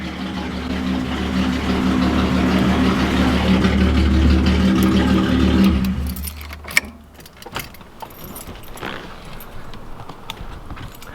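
Datsun car engine idling with an exhaust leak, a loud, steady rumble with a ticking puff for about six seconds, then the engine is shut off, leaving quieter clicks and handling noises.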